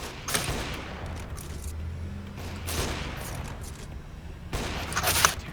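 Gunfire in a video game, three separate bursts of rapid crackling shots spaced a couple of seconds apart, loud and close over a low background rumble, without talking.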